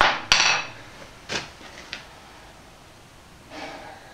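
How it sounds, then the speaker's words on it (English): A hammer strikes a steel snap to dome a rivet head, giving several sharp metallic blows spaced unevenly, loud at first and then fainter, with quiet gaps between. "a snap is a bar of steel with a hole, well, a hemisphere really, in the end of it, which you can then put over and hammer that"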